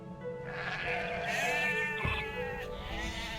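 Sheep bleat over a steady background of game ambience in Age of Empires II: Definitive Edition, a wavering nasal cry with layered calls, moderately loud and continuous.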